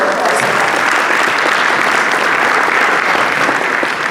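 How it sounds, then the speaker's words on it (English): A conference audience at a Caribbean tourism gathering breaks into sustained, loud applause, a dense wash of many hands clapping evenly throughout with no pause. "we have to give a round of applause"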